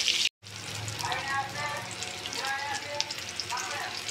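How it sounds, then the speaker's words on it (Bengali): Koi fish frying in hot oil, producing a dense, close sizzle with wet bubbling and spitting that starts abruptly after a brief silence and continues steadily. "এখন আমি সুন্দর করে এই কই মাছগুলি ভেজে নেব"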